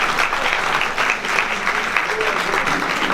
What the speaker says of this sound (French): on peut l'applaudir parce que c'est vraiment un travail formidable